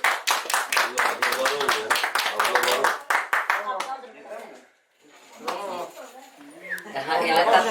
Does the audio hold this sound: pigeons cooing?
no